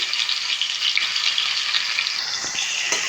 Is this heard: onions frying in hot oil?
yes